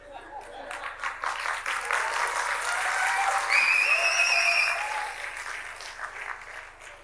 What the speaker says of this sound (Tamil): கைத்தட்டி கைத்தட்டி டயர்ட் ஆயிட்டாங்க.